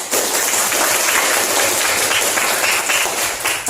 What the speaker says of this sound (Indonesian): tepuk tangan yang meriah untuk semuanya